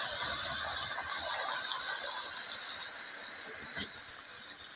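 Water pours steadily into a pan of mixed vegetable curry with sautéed vegetables, a continuous close splashing gush lasting throughout at moderate level, with no talk.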